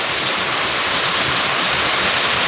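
Heavy rain pours onto floodwater in a flooded area, a steady, dense hiss of falling water that stays even and loud throughout with no voices.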